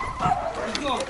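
Dogs eagerly yip and bark while being handed sweet cookie treats at home, short excited sounds close by and mixed with overlapping talk.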